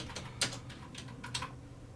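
Keys clack on an Amiga 600 laptop computer keyboard, with several separate taps in an irregular rhythm, fairly quiet and close, and no voices.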